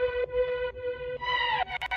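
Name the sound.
Diva synth through Guitar Rig jazz amp, chorus, spring reverb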